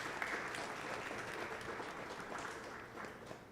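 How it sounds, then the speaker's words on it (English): Applause from an audience at a Sunday temple service, a steady wash of many hands clapping at moderate distance, sustained throughout without any speech. "Please give them a round of applause."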